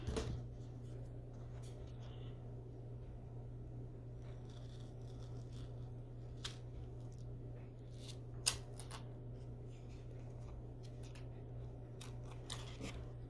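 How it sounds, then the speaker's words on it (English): Scissors cut away excess sticker paper in a few sharp snips and crinkles over a low steady hum, quiet and close. "And then you cut off the excess."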